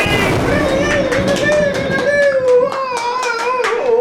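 A small crowd at a city council meeting breaks into brief applause. The clapping is close and lively, and a voice rings out over it for the whole few seconds.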